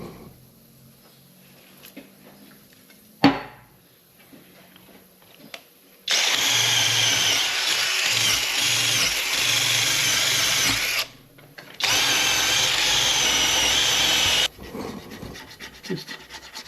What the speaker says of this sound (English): I'll wire brush it first, then I'll take the razor blade, scrape all the way around